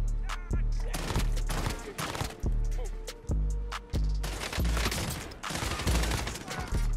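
Dense gunfire in Call of Duty Warzone: repeated loud bursts and single shots pound in close succession throughout, with voices talking underneath.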